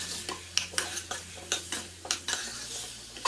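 A spoon stirs masala with salt and chopped tomato in a pan, giving a quick rhythm of distinct scraping clacks over a soft, steady sizzle.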